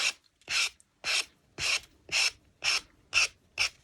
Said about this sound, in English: you can always go with a sanding block in case the edges are uneven